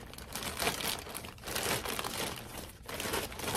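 Plastic bag being cut open with scissors, close-up crinkling and rustling in several bursts with brief pauses between them, no talking.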